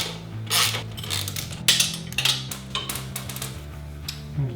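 A wrench or socket ratchet works a 15mm nut and a 12mm-head bolt on a Suzuki V-Strom during suspension lowering-link work. It gives a close series of irregular metallic clinks and clanks.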